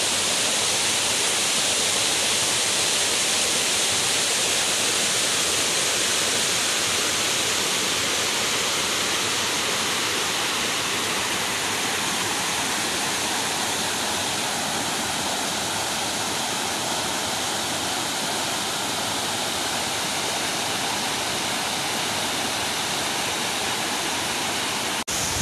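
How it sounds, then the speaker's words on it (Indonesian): Curug Kembar, a twin waterfall at Cinyenang Malasari in Bogor, pours in a loud, unbroken roaring rush of falling water heard up close, with no other sounds breaking through. "Oke, sekarang saya akan lebih dekat lagi ke curug kembarnya."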